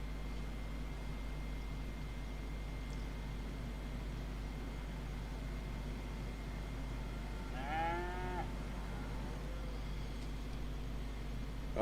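A single cow moos once, mid-distance, over a steady low engine hum in Farming Simulator 25, set on a Montana farm map; nobody talks.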